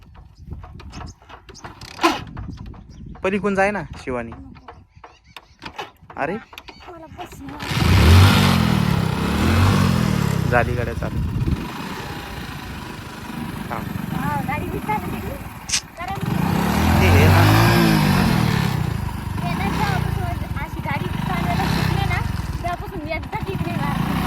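A stalled motorcycle is kick-started by the roadside, the engine catching and revving loudly in rising and falling bursts after a few clattering kicks, with people talking close by throughout.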